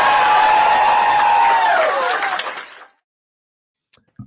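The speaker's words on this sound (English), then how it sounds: "I love the pause for applause." Crowd noise at a campaign speech, a loud wash of cheering and applause that swells and then fades out to near silence, followed by a couple of faint clicks.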